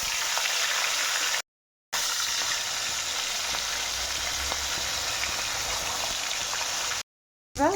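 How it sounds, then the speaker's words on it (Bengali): Pieces of chital fish dropped into hot oil in a wok hiss in a loud, constant sizzle with faint crackles, cut off twice by short silent gaps. "এবার একের পর এক মাছগুলো ছেড়ে দেবো।"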